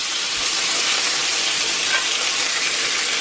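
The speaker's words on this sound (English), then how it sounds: "got the bacon crisping up in the pan" Bacon crisping in a cast iron pan gives a steady, dense sizzle with a crackling hiss that holds evenly throughout, close and fairly loud with no talking.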